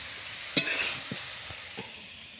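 Fresh pea greens are stirred and fried in a pan, giving a low sizzle with a few scrapes and stirring knocks spread over a couple of seconds, close but quiet.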